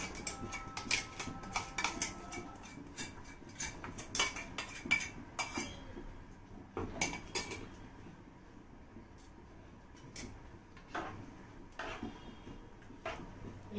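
Ground idli batter is tipped from a mixer jar into a bowl with clinks and knocks of steel against steel, busy at first and then fading to sparse taps over a quiet background.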